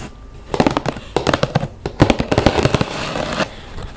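Crisp, rapid tapping and drumming on a hollow cardboard box, bursts of quick strikes with short pauses between them, close and fairly loud.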